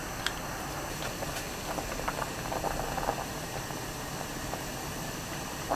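Doenjang soup with tofu, onion and minced garlic simmering in a pot, a soft steady bubbling hiss with faint scattered pops, fairly quiet and heard alone.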